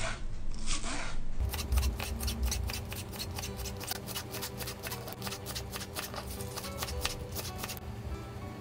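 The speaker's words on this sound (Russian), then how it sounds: "Зеленый лук нарезаем как можно мельче." Green onion is finely chopped with a knife on a cutting board, a close, steady run of quick, evenly spaced chops following a brief burst of hiss at the start.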